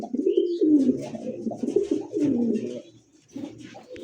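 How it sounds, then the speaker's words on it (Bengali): Two pairs of pigeons cooing in a cage, a steady run of low, throaty coos close by with a brief pause near the end before the calls resume. "দর্শক এই মুহূর্তে দেখতে পাচ্ছেন ভাইয়ের খাঁচায় দুই জোড়া কবুতর আছে"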